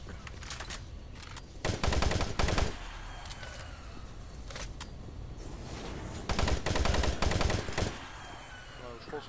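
Bursts of automatic gunfire from a weapon in the first-person shooter Doom 3, with several loud sustained rattling volleys separated by quieter stretches of ambient game sound.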